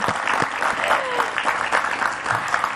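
Studio audience applause on an Indonesian TV show, a steady patter of many hands clapping close and fairly loud throughout, with a little talk mixed in.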